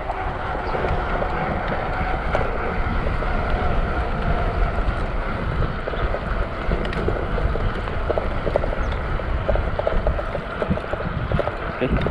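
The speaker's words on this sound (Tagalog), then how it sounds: "Lakas ng hangin." Strong wind roars steadily against the microphone for the whole stretch, a dense, unbroken rushing noise with no pauses.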